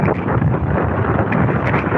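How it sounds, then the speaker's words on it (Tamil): Gusty wind buffets the microphone in a continuous rough rumble, steady and fairly loud with no voices. "காற்று நல்லா வருது, மழை வராமல் சரிதான்."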